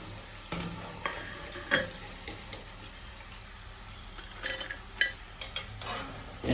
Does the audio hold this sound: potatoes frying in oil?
yes